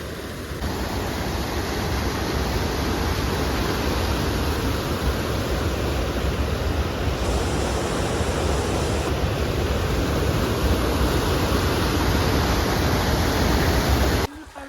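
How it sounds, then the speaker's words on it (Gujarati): Loud, roaring rush of floodwater pours continuously from opened dam gates after heavy rain, a dense, powerful torrent that cuts off abruptly at the end. "ડેમમાં બારી બીજી ખોલી અવાજ આવે છે બહુ પાણી આવે ને જયરાજ આવે"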